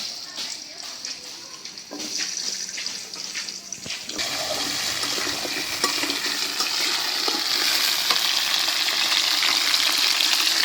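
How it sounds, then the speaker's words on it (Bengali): Potatoes sizzle steadily in oil already used for frying fish, swelling into a loud continuous hiss after a few seconds, with occasional stirring scrapes nearby. "এই যে মাছ ভাজার তেলে আলুগুলো দিয়ে দিলাম।"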